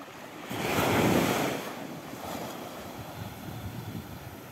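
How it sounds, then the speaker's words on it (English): Ocean waves wash onto a fine-sand beach at Prainha, Portimão, Portugal, one surge swelling and fading early, followed by softer rolling surf with light wind noise. "A walk along the fine sands of the beach."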